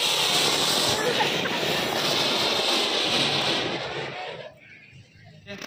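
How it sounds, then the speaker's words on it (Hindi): A star bomb firecracker lit during Diwali in a village hisses loudly and steadily for about four seconds before fading out abruptly, leaving a quieter background. "स्टार बम है, बहुत आवाज करेगा ये।"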